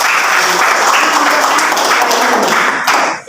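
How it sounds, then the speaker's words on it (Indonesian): A classroom of students gives a burst of applause, dense steady clapping that fills the space for a few seconds before tapering off at the end. "Nah, tepuk tangan."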